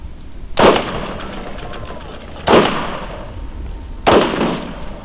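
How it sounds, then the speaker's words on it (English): Three sharp explosive blasts from Borderlands combat, spaced about two seconds apart. A grenade detonation and gunfire each hit loud and near, with a rumbling tail, over a steady background din. "He threw a fucking grenade at me."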